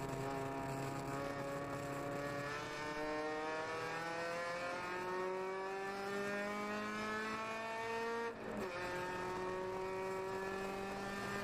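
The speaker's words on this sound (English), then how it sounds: "Headed up the hill to turn 1 here at VIR. Nice rev matched downshifts." Race car engine at VIR in a ChampCar endurance race, climbing the hill toward turn 1. A loud, steady harmonic drone runs throughout, rising in pitch between rev-matched downshifts, with one brief shift break near the end and no talk.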